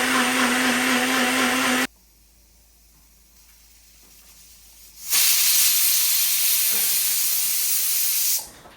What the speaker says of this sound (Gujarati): એને બંધ કરીને હવે આપણે એકદમ સરસ રીતના મિક્સરમાં ફેરવી નાખીશું